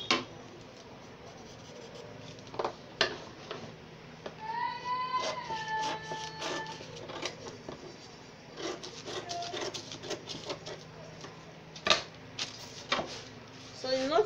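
Scissors snip and rustle through fabric while cutting out a blouse pattern, a series of close, irregular crisp cuts and paper-like shuffles, with a person speaking intermittently over them.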